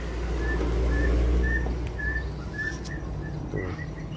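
A white-rumped shama gives a series of clear, high whistled notes at a steady rhythm over a loud, constant low rumble.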